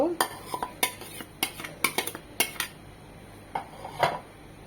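Fried semai being stirred into thickened boiling milk for an Eid dessert, repeated sharp spoon-on-pot clanks in an uneven rhythm over a low simmer, close and fairly loud, no voices.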